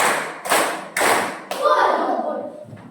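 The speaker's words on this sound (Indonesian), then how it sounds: "kita beri tepuk tangan dulu" Three sharp bursts of group clapping in a steady count, then a longer round of applause that trails off, with a voice speaking between the claps.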